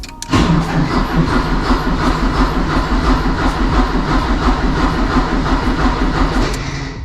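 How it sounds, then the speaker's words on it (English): An engine cranks and turns over with a steady rhythmic churning, loud and continuous, settling into a lumpy idle-like chug. "So it's turning the engine over"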